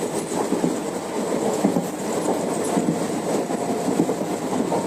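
A steady, loud rumble of a moving train heard from inside a carriage, passing green farm fields, with continuous wheel noise and faint rhythmic clatter.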